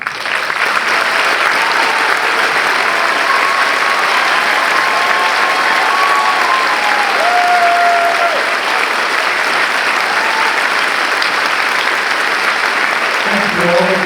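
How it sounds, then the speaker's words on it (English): Sustained applause from an audience at a county band concert, steady and dense clapping for veterans standing, filling the room throughout with a faint whistle-like tone running through the middle. "If you're a veteran, please stand so we can applaud."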